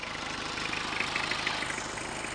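A Mitsubishi 4D56 engine in a pickup idles just after starting, a steady close-up clatter with a fast, even pulse that holds for a couple of seconds, with no talking.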